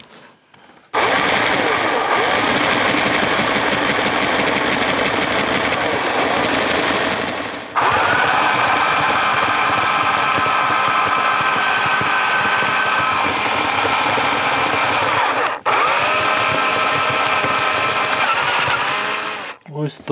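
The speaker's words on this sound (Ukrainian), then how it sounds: "Дві відсверлив і ще сверлюємо останні дві." A power drill bores holes through a suitcase shell during a repair. Three long, loud, whining drilling runs are heard close up, each separated by a brief pause.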